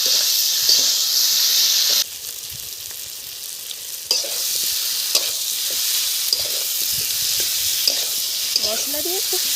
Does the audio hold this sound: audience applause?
no